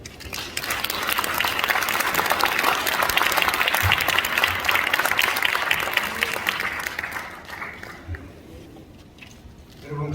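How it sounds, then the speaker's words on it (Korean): A large auditorium crowd gives sustained, loud applause to welcome the newly inaugurated president of the Christian Council of Korea at a thanksgiving service, the clapping holding strong for several seconds before tapering off. "큰 박수로 맞아주시고"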